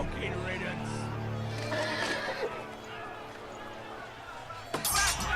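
A horse whinnies loudly in a Game of Thrones video game scene, with hooves clip-clopping and a sharp clatter near the end, while a voice talks over it.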